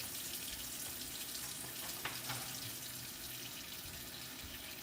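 Water runs steadily from a tap into a kitchen sink as a constant broadband hiss, with a couple of faint clinks partway through.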